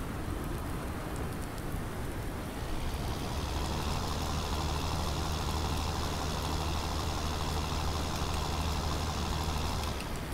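A truck engine driving slowly in the Farming Simulator 19 video game, a steady low drone that swells in after a few seconds and holds evenly beneath a constant rain-like hiss.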